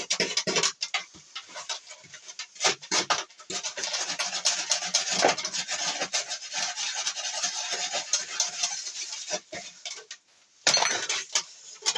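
A metal wire brush scrubs across a ceramic tile in repeated rasping strokes, with short pauses and a few light clinks between bursts of gritty scraping.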